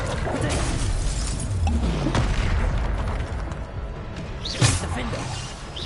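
Bombarda spell explosions in Hogwarts Legacy, dense booming blasts and crashes filling the clip at steady loudness, with a sharper burst near the end.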